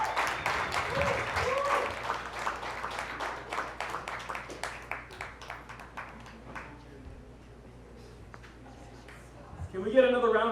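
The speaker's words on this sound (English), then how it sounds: "Can we get another round of applause for Pablo Diaz?" A comedy club audience claps after a stand-up set, a loose burst of clapping that tapers off into scattered claps and quiet, with a voice breaking in at the very end.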